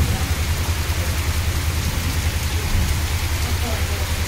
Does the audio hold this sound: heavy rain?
yes